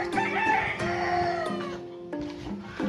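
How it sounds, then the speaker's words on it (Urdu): A big flock of chickens clucks and crows together, a dense and continuous chorus of overlapping calls heard loud and close. "اور یہ ہیں ڈھیر ساری مرغیاں"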